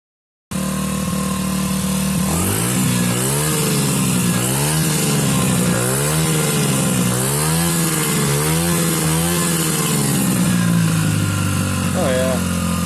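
A Suzuki DR-Z70 dirt bike engine, running again after years idle with a newly installed carburetor, buzzes loudly and close, revving up and down in repeated bursts over a fairly high idle, with voices talking over it.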